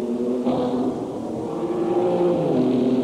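Formula Holden open-wheel race cars race at Amaroo Park, sustained engine drone with shifting pitch as cars accelerate and pass, moderately loud and continuous.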